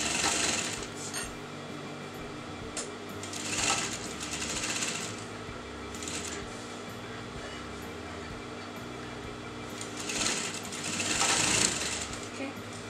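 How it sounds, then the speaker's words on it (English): A sewing machine stitching a frock runs in repeated bursts of rapid mechanical whirring, each lasting a second or two with pauses between, fairly close, with a voice speaking quietly in the gaps. "you're going to sew to the next side"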